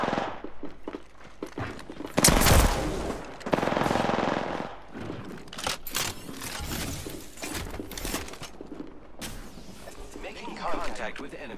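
Bursts of automatic gunfire in Apex Legends, rapid clustered shots with sharp peaks and breaks between volleys, mixed with footsteps and a character's voice lines speaking over the fight.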